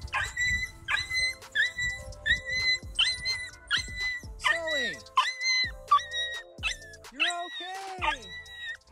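A puppy whimpers and yips in a rapid series of high, pleading cries with short pauses between them, close and fairly loud.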